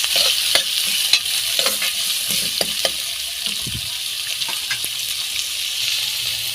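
Finely chopped onion sautés in a pan for sorrakkai kootu, a steady bright sizzle with repeated close scrapes and taps of a stirring spoon, loud and without talk.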